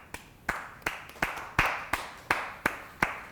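Rhythmic clapping in a round of applause for NASCAR Cup Series driver Austin Cindric: about nine sharp, evenly spaced claps, each fading quickly, moderately loud in a small room.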